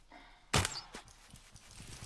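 A single reverse draw crossbow shot in theHunter Classic hunting game gives a sharp, loud snap and thwack, then a brief faint rattle and soft thumps fading afterward.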